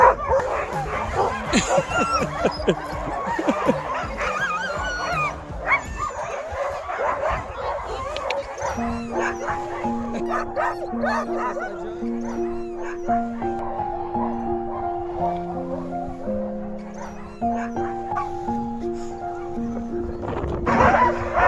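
Sled dogs barking, yipping and whining excitedly before departure on the Fjällräven Polar expedition, a dense chorus of many dogs near and far, with people talking among them and a steady melodic tune entering later.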